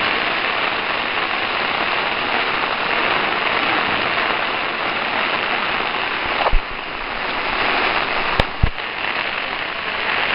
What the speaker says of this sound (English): There's a big downpour there.